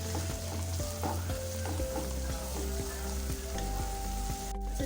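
Chicken keema frying with masala in a pan, a loud continuous sizzle with stirring clinks and scrapes layered over it, close and steady throughout with no talking.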